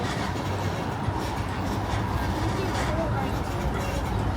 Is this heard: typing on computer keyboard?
no